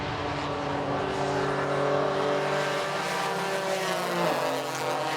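A race car engine drones at the GRIDLIFE TrackBattle sprint at Watkins Glen, a steady mid-distance roar with layered tones that shift in pitch and dip near the end, with no voices.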